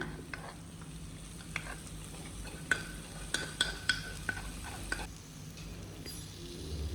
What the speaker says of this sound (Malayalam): ഈ വെളുത്തുള്ളിയുടെയും ഇഞ്ചിയുടെയും പച്ചമണം മാറുന്നത് വരെ നന്നായി ഒന്ന് വഴറ്റിയെടുക്കണം